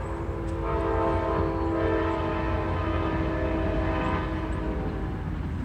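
A passing train rumbles steadily and loudly throughout, a broad continuous roar with faint horn-like tones, heard alone without talk.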